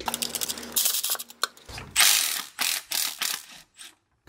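Ratchet clicking while removing the two 13 mm nuts that hold the slave cylinder to the transmission of a BMW E46: close, loud bursts of rapid pawl clicks in several separate runs, with brief pauses between strokes.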